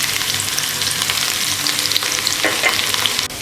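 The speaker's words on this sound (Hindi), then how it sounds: "और साथ ही साथ ये लहसुन जो कटे हुए वो डाल दूंगी मैं।" Chopped garlic and cumin seeds sizzle steadily in hot desi ghee as a tadka for Rajasthani mixed moong-chana dal, a loud, continuous crackling fry with no talk.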